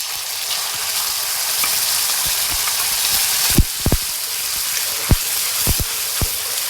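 Onion and masala sizzle loudly in hot oil, a constant crackling hiss broken by sharp pops and occasional stirring clicks.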